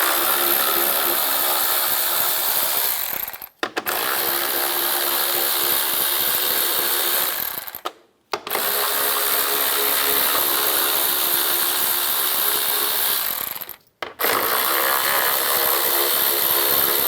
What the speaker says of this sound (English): Then take these screws out, use a 10mm socket